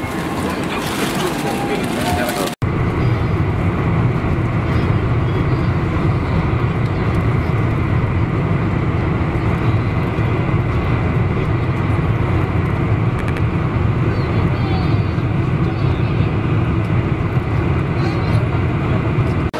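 Boeing 747 airliner engines roar steadily in the cabin on a short one-hour flight to Gimpo, a constant broadband rumble that starts abruptly after a brief louder opening moment.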